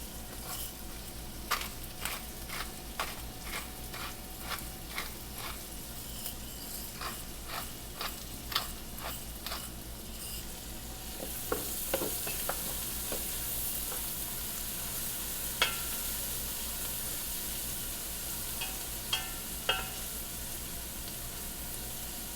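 Onion and green pepper sauté in bacon fat with a continuous hissing sizzle, punctuated by a run of crisp utensil taps and stirring scrapes, close up, with no speech over it.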